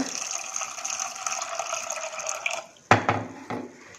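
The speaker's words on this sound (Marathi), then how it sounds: "यामध्ये पाणी घालूया" Water pours into a pressure cooker holding turmeric, salt and soda, a steady bright trickling fill, then a few sharp metallic clanks of the cooker near the end.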